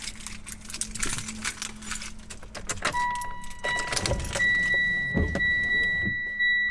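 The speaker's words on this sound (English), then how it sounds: "I'm going to go ahead and turn the ignition on." A key turns in the ignition of a Mitsubishi Lancer Evolution X: keys jangle and click close by, then several steady electronic dashboard chimes and tones sound together.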